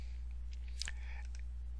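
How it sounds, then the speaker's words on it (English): A computer mouse gives a quick pair of small, sharp clicks in close succession, faint against a steady low electrical hum. "Double click on that, we get the main"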